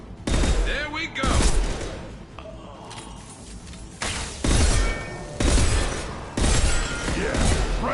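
Loud gunfire bursts from a Mass Effect 2 firefight, arriving in several heavy volleys with clatter and impacts between them, and shouted game voices mixed in.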